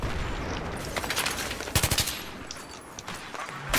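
Rapid automatic gunfire from the video game Battlefield 3, dense bursts of machine-gun fire with sharp clustered shots, loud and close, continuing throughout with no talk.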